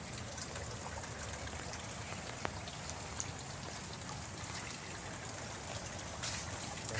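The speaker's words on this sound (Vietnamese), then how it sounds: "Trời mưa các bạn ơi, mưa quá." Rain falls outdoors on an afternoon barbecue, a continuous light patter of drops and trickling water with a few sharper drips standing out, quiet and steady, with no one talking.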